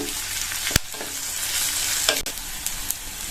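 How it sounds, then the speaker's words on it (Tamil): Onions sautéing in a pan for sambar: steady close sizzle with scraping stirs from a spatula and a few sharp clanks of utensil on metal, no voices. "இந்த வெங்காயம் லைட்டா அதனுடைய கலர் மாறி வர வரைக்கும் வதக்கிக்கணும்"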